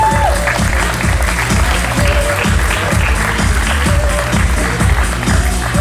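An audience at the Lady Mannequin International 2019 winners' announcement applauds Mr. Limburg International: loud, sustained crowd clapping and cheering, with a faint amplified voice underneath.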